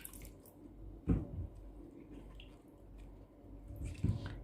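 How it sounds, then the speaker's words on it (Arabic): Soaked eggplant pieces being washed in water, with soft squishing and dripping, two sharper splashy handling sounds a few seconds apart over quiet background. "اغسله انظفه من هاي المادة اللي نقعتها بيها."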